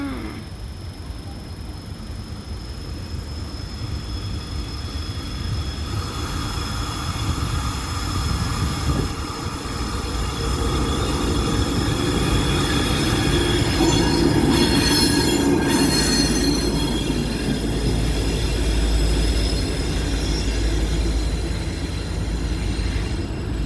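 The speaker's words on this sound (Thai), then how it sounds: "รถไฟมาแล้วจ้า" A short rail vehicle runs past a crossing near a footbridge, with a steady rumble and squealing wheels that build up and peak midway before easing off slightly.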